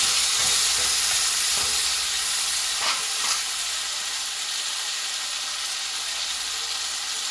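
Green chili and cumin paste frying in a pan, a steady bright sizzle with a few stirring scrapes and spatters early on, close and continuous without talk.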